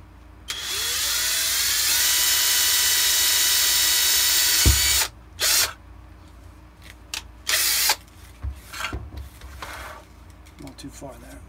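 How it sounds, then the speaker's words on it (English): A power drill whines steadily for several seconds drilling two holes in a Shadow Trooper armor part, then stops; short bursts of drilling and handling noises follow, with a voice speaking briefly. "I'm also going to drill the 2 holes."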